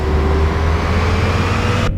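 A Mercedes Travego bus engine in Euro Truck Simulator 2, a steady, loud low drone with an even hum running throughout, alone with no talk, cutting off abruptly at the very end.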